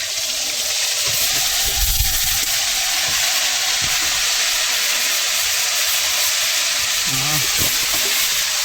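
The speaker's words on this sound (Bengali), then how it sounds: "ফুটছে বন্ধুরা এখন সেই ম্যারিনেট করে রাখা আমাদের কুচে মাছ দই কুচে দিয়ে নেওয়া হবে দেখো" Marinated eel (kuche fish) cooking in a hot pan with yogurt, a loud continuous sizzle and steamy hiss throughout, with occasional stirring scrapes and a faint voice underneath.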